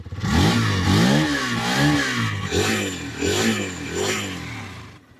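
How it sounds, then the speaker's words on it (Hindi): A Hero Xtreme 160R 4V motorcycle engine, 2024 Pro model, revs repeatedly from idle, several loud rising and falling throttle blips in a steady rhythm, close by with no talk. "देखो आइडल पर साउंड सुनो, अब एक्सीलेटर देने के बाद"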